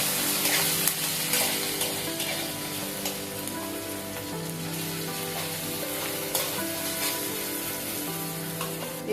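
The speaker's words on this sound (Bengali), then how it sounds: "আদা রসুনটাকে ভেজে নিব" Ginger and garlic paste fries in oil in a pan, giving a dense, continuous sizzle with soft crackles and occasional stirring scrapes, close and steady, with no talking.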